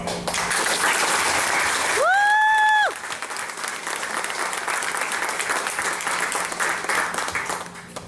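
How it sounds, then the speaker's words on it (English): An audience at a pilots' reunion applauds a gentleman with sustained, dense clapping throughout, briefly overlaid by a short rising whistle-like tone near the start. "Will you please join me in giving this gentleman a big applause?"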